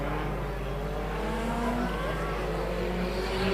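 Stock cars racing on a circuit at a regional meeting, a steady blend of engines droning from a distance with rising and falling pitch as the cars pass, fairly faint and continuous.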